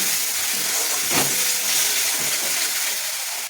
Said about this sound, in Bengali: এবার এই দইটা দিয়ে দেবো, ফাটানো টক দইটা দিয়ে ভালো করে